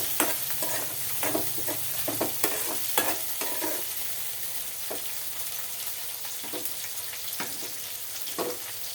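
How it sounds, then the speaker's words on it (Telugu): Dried shrimp and onions fry in oil while being stirred, a low steady sizzle broken by repeated scraping clacks of a spoon against the pan, close and moderately loud with no talking. "ఈ నూనెలోనే ఇవి కూడా వేగాలన్నమాట, అందుకని ఈ రొయ్యలు కూడా నేను వేస్తున్నాను"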